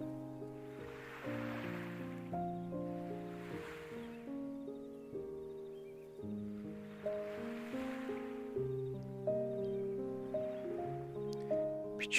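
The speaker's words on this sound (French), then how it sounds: "Tu écoutes le son des vagues." Soft ocean waves wash onto the shore by the sea at Fukuoka in slow, regular swells about every two seconds. They sit faintly beneath gentle melodic music.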